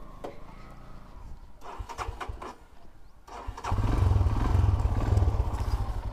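A motorcycle starts with a few clattering cranks and catches, then settles into a loud, steady, rumbling idle close by, with faint background noise beforehand.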